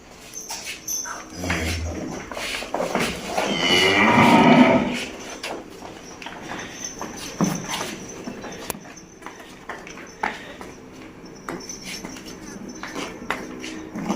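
Cow at a farm sale mooing once, a long, loud, close bellow, amid scattered barn noises and a brief dog-like whimper.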